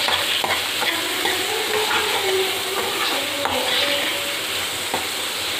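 Carrots, peas and other vegetables for paneer pulao, salted and stirred in a hot pan; a continuous close sizzle with soft scrapes and taps of the spoon against the pan, no talking.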